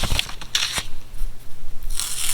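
Tape is peeled off a sewn Pickle Dish quilt block in a few short, crisp ripping pulls close by, separated by brief pauses and light rustling.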